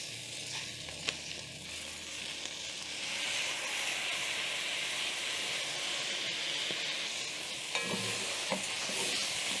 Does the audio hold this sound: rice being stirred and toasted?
yes